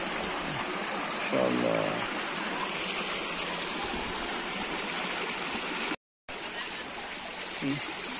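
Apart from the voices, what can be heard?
flowing flood water diverted by residents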